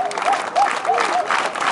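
An audience at a talk in Caxias, Maranhão, claps on cue, giving a steady burst of massed clapping that fills the short moment with faint voices mixed in.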